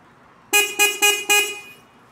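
An e-bike horn sounds four short, loud toots in quick succession, each a bright, steady tone with rich harmonics and brief gaps between them, with no talk over it.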